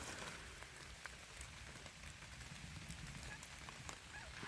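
Rain falls in an autumn forest as a soft, continuous patter of drops on leaves and ground, faint and steady throughout, with no voices.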